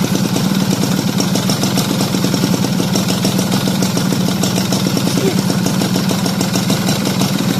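A motorcycle engine with a Mikuni carburetor idles steadily and loudly up close, its rapid even putter running without a break and with no voices over it.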